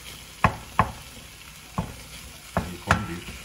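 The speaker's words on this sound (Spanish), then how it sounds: "el corned beef y a integrarlo con sofrito que tenemos en el sartén" Corned beef breaking apart and being stirred into sofrito in a frying pan, with five sharp spatula scrapes at uneven intervals over a constant low sizzle.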